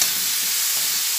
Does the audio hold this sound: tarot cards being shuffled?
no